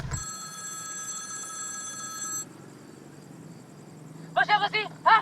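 A mobile phone ringtone sounds as a bright, steady electronic tone for a couple of seconds and then cuts off, followed by a voice speaking near the end.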